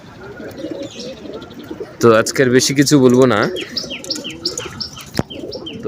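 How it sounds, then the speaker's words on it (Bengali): Pigeons coo and chirp softly nearby, a steady low murmur of birds through the clip, while someone talks briefly in the middle. "এই যে কবুতরগুলি,"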